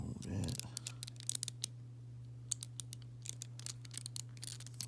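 Scissors cutting during a repair of a Mirage G1, a quick cluster of sharp snips and clicks near the start followed by scattered small clicks over a steady low hum.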